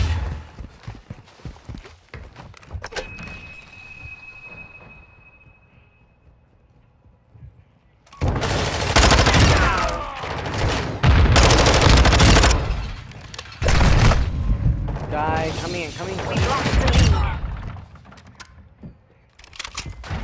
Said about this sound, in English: I was shooting at another guy